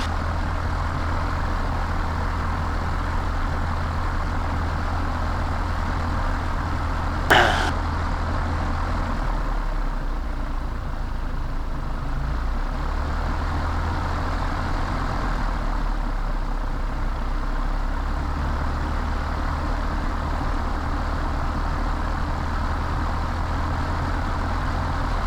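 A light training aircraft's piston engine drones steadily while taxiing onto runway 11, a loud continuous cabin hum with a brief click partway through and no speech.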